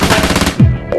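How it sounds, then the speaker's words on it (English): A KRISS Super V submachine gun fires a rapid full-auto burst, a loud, close stream of evenly spaced shots cracking in quick succession, ringing briefly at the end. "anytime you can keep the gun on target, it's going to be more accurate when you're engaged in full auto fire"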